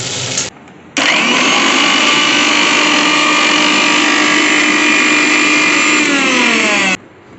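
An electric kitchen grinder whirs loudly and steadily for about six seconds while grinding fried spices and cashews into a paste, after a brief short burst at the start.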